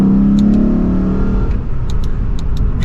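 A Lexus RC F sports car engine revs loudly and then settles into a rough, throaty idle with a steady low rumble, close by, with no one speaking.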